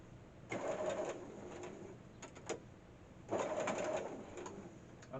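A domestic sewing machine stitching a couple of inches down the side of a fabric drawstring bag, two bursts of steady whirring run with a brief gap of quiet clicks between them, close and fairly soft.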